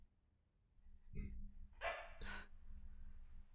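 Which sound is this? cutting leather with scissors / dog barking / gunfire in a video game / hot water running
dog barking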